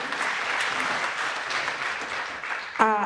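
Audience applause at a theatre season launch event, a steady dense clapping from a crowd lasting throughout, with a brief voice breaking through near the end.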